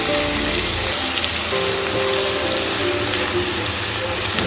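Chopped onions, two medium-sized ones, sizzling in hot oil with bay leaf in a pan while cooking a sprout gravy; a steady, dense frying hiss runs loud and continuous throughout, with no talking.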